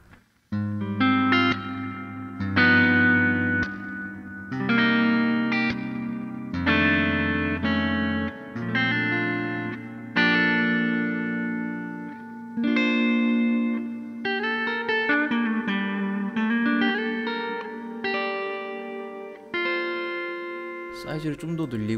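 An electric guitar runs through a Two notes Torpedo C.A.B. M+ pedal with chamber ambience reverb, playing sustained distorted chords and single-note lines that ring and tail off, loud and with no voices.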